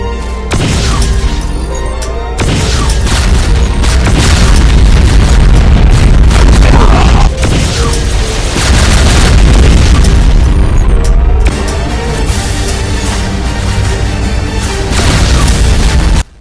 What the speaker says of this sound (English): Twice the spreads of round BFG shots.